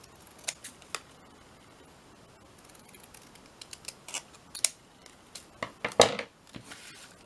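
Scissors snipping paper for a handmade paper bag journal, a scattered run of close, crisp cuts, sparse at first and then quicker and louder near the end, with no talking.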